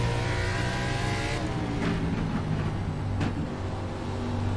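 Short track race cars lapping at Lucas Oil Raceway during a national tour event: a loud, continuous engine drone and revving that swells as cars pass through the turn, with no voices.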